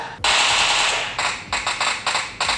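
Loud automatic gunfire from a mobile shooting game played on a Samsung A71 5G with an Exynos 980 chip: one long sustained burst, then several shorter bursts in quick succession, close and dominant.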